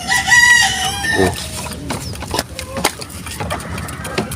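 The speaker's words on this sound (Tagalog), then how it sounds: "So, ito yung inahin." A mother hen clucks and squawks close by amid farmyard bustle, with scattered knocks and other birds calling in the background.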